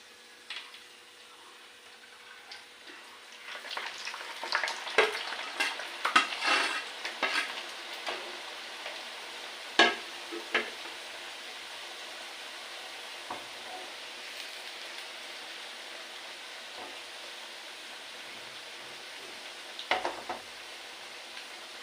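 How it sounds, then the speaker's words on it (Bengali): Oil sizzles steadily at a low hiss while potatoes fry and are stirred, with occasional scraping clatters and a brief louder burst near the end. "এবারে আমি এই আলুগুলো আবার তেলে দিয়ে দেবো"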